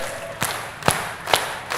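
A crowd at a Filipino rap battle claps in a steady beat, four loud, sharp claps about half a second apart over a low murmur of crowd noise.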